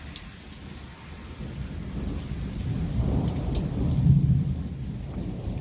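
A thunderstorm brings a steady hiss of heavy rain and a deep rumble of thunder that swells to a loud peak midway and then lingers under the downpour, with no voices.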